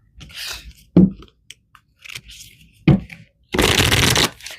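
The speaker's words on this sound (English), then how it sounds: "Let's pull some more cards." Tarot cards being shuffled and handled up close in short separate bursts: crisp riffles and slides, then a longer, louder dense rustle near the end, with quiet gaps between them.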